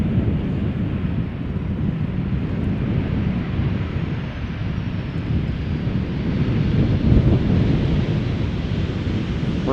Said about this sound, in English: One of the many 737-800s from Transavia.